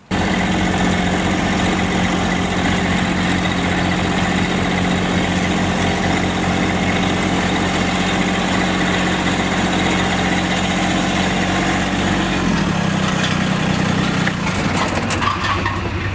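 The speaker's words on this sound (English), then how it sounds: "Just thought I'd shut the tractor off real quick" A Massey tractor engine idling nearby, a loud steady low drone with a constant mechanical hum that holds for most of the clip before the pitch drops and the engine winds down near the end.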